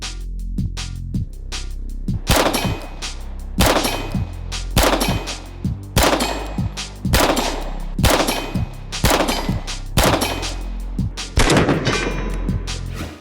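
A 9mm handgun fires at steel targets in a loud, close string of sharp shots at a steady pace, about one or two per second, each followed by a brief metallic ring.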